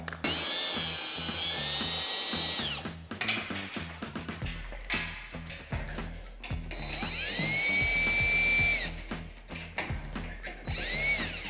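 A power drill whirs in repeated bursts while assembling a one-seat go-kart, spinning up and stopping with short pauses between, close and loud, with light clanks of metal parts in between.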